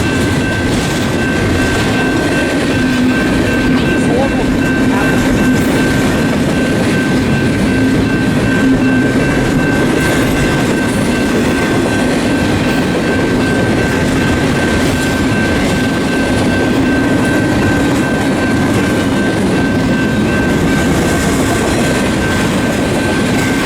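A westbound freight train passes continuously near Barstow, California, with a loud steady rumble of rolling cars, wheel noise and a sustained squeal tone throughout.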